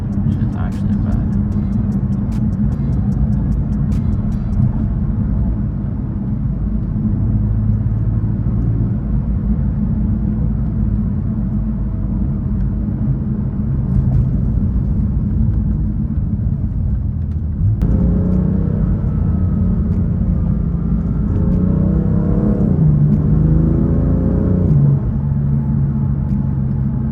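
BMW M3 on a road trip to Houston: a steady, loud engine and intake rumble with road roar heard from inside the car throughout, swelling briefly partway through, with a person talking over it.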